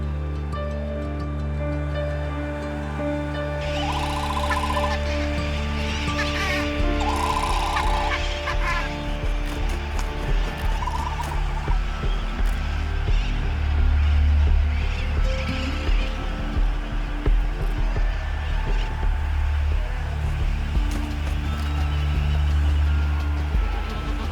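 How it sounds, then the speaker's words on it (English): A dense seabird colony of Laysan albatrosses on remote Midway Atoll, many birds calling continuously with honking, braying cries over a steady wind-and-surf background, no talk. "The island's most abundant bird is the Laysan albatross"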